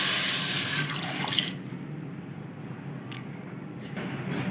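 A glass of water is poured into a pot of 750 grams of jaggery on a stove to make syrup, giving a loud, close splashing pour that cuts off after about a second and a half, followed by faint drips and quiet clinks.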